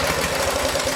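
A 16 horsepower small engine rated at 3,600 RPM, revived from a scrap yard, runs steadily with a fast, even low-pitched chugging, close and continuous with no voices.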